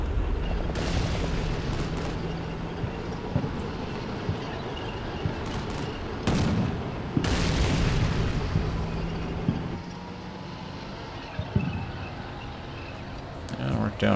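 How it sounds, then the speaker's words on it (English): Combat Mission Black Sea war game battle with sustained rumbling gunfire and a few heavier explosive bursts, broadband and fairly loud throughout, with someone talking over the action. "They're shooting at something over here still."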